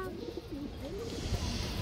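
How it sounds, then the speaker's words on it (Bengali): A large Bagamadi pigeon of a racing line gives faint, low, wavering coos under a steady background hiss and murmur, quiet and somewhat distant. "এই দেখেন মাশাআল্লাহ খুবই সুন্দর একটা বাগামাদি কবুতর"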